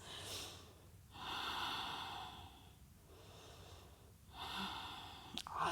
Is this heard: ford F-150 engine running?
no